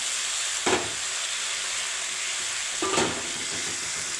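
Ghevda beans frying in oil with onion and tomato, a steady close sizzle with two brief stirring scrapes of a spoon in the pan.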